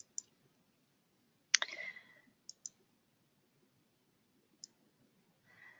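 A computer mouse clicks sharply a few times in a quiet room, single and double clicks spread out, one slightly louder with a brief rattle, while using floor plan software.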